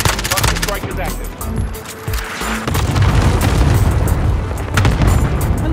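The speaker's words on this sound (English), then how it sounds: "Request the airstrike on my quarters" Airstrike explosions in the video game Warzone, loud booming blasts that roll and rumble, mixed with bursts of rapid gunfire, dense and close throughout.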